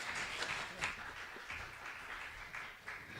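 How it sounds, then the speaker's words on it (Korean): A church congregation at a youth service applauds after a prayer, a soft, steady patter of many hands clapping at a distance, fairly quiet and sustained throughout. "박수."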